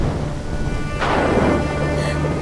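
Steady rain hisses throughout, broken by one sudden, loud thunder crack that rumbles and fades away, with no one speaking.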